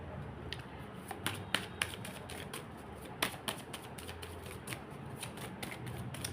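Tarot cards handled and drawn, producing a run of crisp riffling flicks and light taps, close and clear over a faint background hiss, with no talking.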